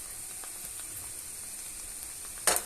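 Pepper paste going into a hot, sizzling pan while making bulgur pilaf, a steady soft frying hiss with a brief sharper spatter as the paste hits near the end.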